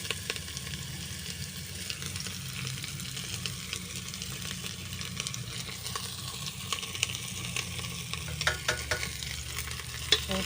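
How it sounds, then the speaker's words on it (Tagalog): Garlic, onion and ginger sauté in a little oil, with a steady close sizzle and scraping stir strokes throughout, as the base for monggo with native chicken. "Ko nang igisa ang bawang, sibuyas, luya"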